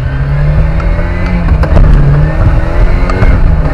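A car engine revving hard and continuously, loud and close, its pitch rising and dipping as the throttle is pressed, during a driving lesson.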